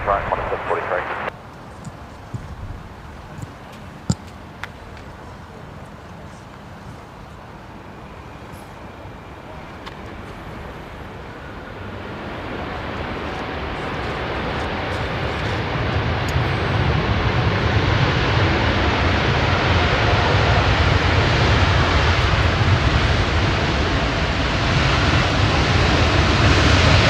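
A Qantas airliner departs runway 16 right at Sydney Airport. The broad rushing roar starts faint and distant, then swells steadily louder over the second half.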